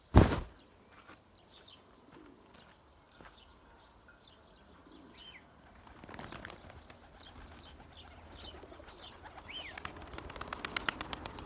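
Pigeons, including chekerbash and Adana breeds, coo repeatedly in soft overlapping calls, with a loud wing flap at the start and more flapping and fluttering later, fairly close, with no talk.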